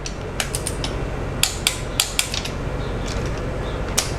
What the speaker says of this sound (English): 73 Newton meters, guys, on the torque wrench